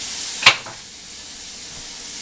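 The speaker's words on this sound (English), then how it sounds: "while the peppers are cooking and the onions" Peppers and onions cook on an outdoor grill, giving a steady close hiss of sizzling with one sharper burst of crackle, and no one speaks.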